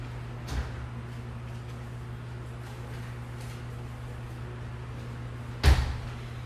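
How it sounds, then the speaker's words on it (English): A freezer door in a kitchen thuds twice, a soft knock early on and a louder slam near the end, both close against a steady appliance hum. "Now that goes in the freezer."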